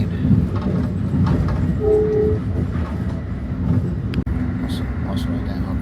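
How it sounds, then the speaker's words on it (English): Passenger train riding a rail line, its steady rumble and clatter continuous and close throughout, with a brief tonal squeal partway and people talking over the noise. "Yeah, we're on a train."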